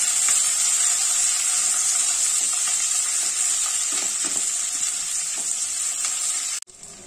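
Cubed onions sizzle steadily in a hot pan, with a bright, continuous frying hiss and soft scraping as they are stirred, close and even throughout before cutting off at the end.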